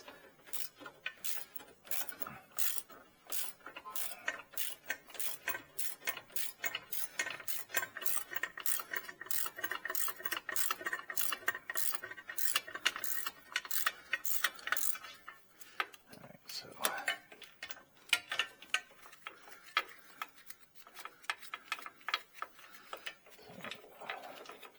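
A ratchet loosening a lower control arm bolt on a Chevy Cobalt, dense rapid pawl clicking in long runs, then choppier strokes, close up with some faint mechanic's talk.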